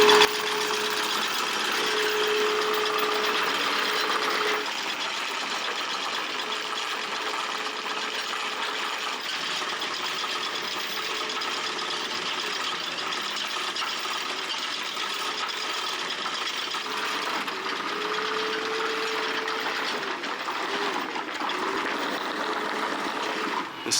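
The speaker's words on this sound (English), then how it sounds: "Now just changing the anchor chain, so you can hear it going down." On an Outremer 55 sailing catamaran, the anchor chain runs out with a steady mechanical rattle and a whirring windlass, continuous for over twenty seconds with a brief change in tone early on.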